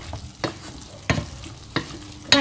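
A spoon stirs braised pork with coconut in a pot: four distinct scraping strokes, close and clear, with a soft simmering hiss between them.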